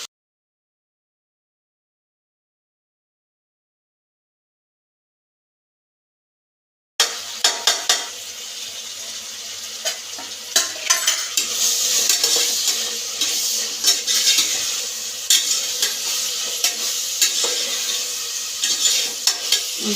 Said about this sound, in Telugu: దీంట్లో వచ్చేసి ఎర్రగడ్డ పుదీనా ఇంకా మసాలా అన్నీ వేసి ఫ్రై చేసుకుంటా ఉన్నాను.